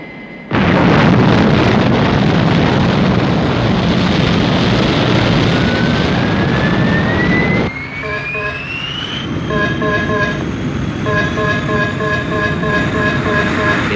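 Thunderbird 1, a fictional rocket ship, takes off with a loud sustained roaring rumble, then a rising whine climbs in pitch as the roar drops, followed by steady pulsing electronic tones.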